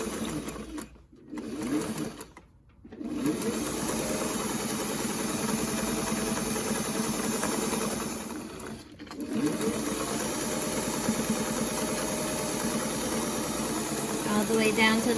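A sewing machine stitches bias tape onto a fabric face mask in a long, continuous close whir, broken by a few brief stops and restarts.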